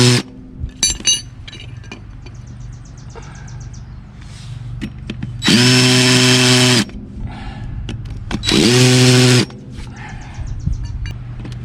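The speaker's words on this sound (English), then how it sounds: "These little DeWalt handle drills are alright." DeWalt handheld power drill spinning up twice in bursts of about a second each, loud and close, amid clinking and workshop noise during a septic tank repair.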